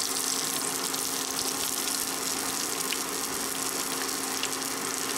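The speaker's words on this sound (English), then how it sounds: "putting it in the pan. There it is in the pan" Chicken tenders fry in a pan with a continuous, even sizzle and crackle, moderately loud and close, with no pauses and no voices.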